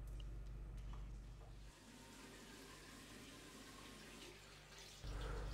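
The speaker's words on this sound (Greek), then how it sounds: "Λίγο νερό να φύγουν όλα. Να ξυπνήσω, να δροσιστώ." A tap running for splashing water on the face, a continuous hiss of flowing water with a low hum underneath that drops away midway and returns near the end.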